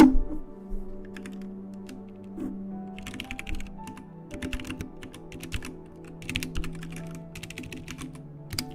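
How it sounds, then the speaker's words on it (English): Bursts of keyboard typing, quick irregular clicks coming in clusters over a low steady hum, fairly close and moderately loud. "you guys can probably hear me typing really loud"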